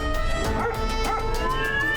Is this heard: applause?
no